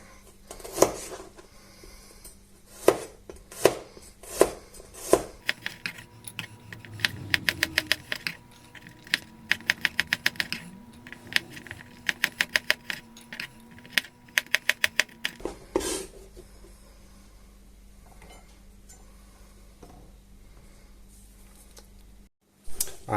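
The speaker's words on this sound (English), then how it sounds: "start chopping" Rapid bursts of knife taps on a cutting board, chopping garlic, onion and carrots in quick rhythmic runs with pauses between, close and fairly sharp over a quiet background hum.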